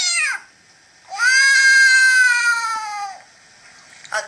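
A person imitates an angry cat, giving a short yowl followed by a longer, loud, drawn-out caterwauling meow, then a brief tail-off, all close to the microphone.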